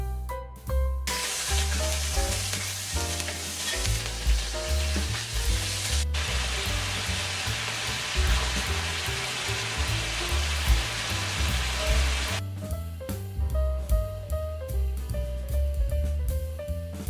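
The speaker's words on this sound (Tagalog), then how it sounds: "Pag mainit na ay isir ang minarinate na karne." Marinated beef for bistek Tagalog sears in hot oil in a pan, giving a loud, steady sizzle that holds throughout, with stirring scrapes and a brief change in tone partway.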